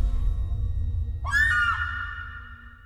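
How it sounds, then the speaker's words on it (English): A single sharp, high scream rings out in the Strange Investigations 2 video game, a brief piercing cry over a low rumbling background that fades after about half a second. "My subconscious just screamed out loud."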